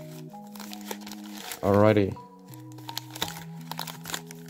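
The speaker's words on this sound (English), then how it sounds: "So let's start off by opening these packs" Foil wrapper of a Pokemon card pack, Vivid Voltage Elite Trainer Box, crinkling loudly in a burst of about half a second amid soft background music, with someone speaking briefly before it.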